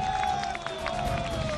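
A studio audience at a televised political debate show claps and cheers together for a guest, a brief dense burst of applause with a background tone running underneath.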